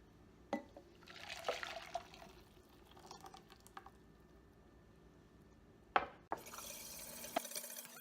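A milky vegan mozzarella mixture is poured into a saucepan, a soft liquid pour and trickle broken by a few sharp clinks and taps, quiet and close, with no talking.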